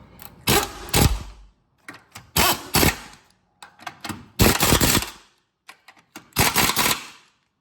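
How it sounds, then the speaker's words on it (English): Impact wrench tightening 17 mm engine mount bolts on a DC2 Integra during a B20V swap and turbo install, heard as several short, loud rattling bursts separated by brief pauses, close up. "I'm gonna hit these guys with an impact now."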